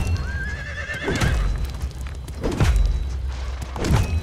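Horses in the video game Conan Exiles let out a high, wavering whinny, followed by low thumping hoof and body sounds at a moderate distance against steady game ambience.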